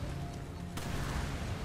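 Sustained rumbling blasts and gunfire from Resident Evil 5 co-op play fill a dense, noisy mix, with a sharp burst partway through that thickens the roar for the rest.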